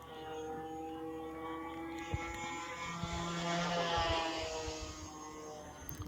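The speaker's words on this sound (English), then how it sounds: "I was running this on a 3-bladed prop. Just have some kind of a interesting noise." A TL2000 float plane running a three-bladed propeller drones steadily with a buzzing, whirring engine tone, heard from a short distance and fairly faint, swelling slightly midway through the six-second stretch.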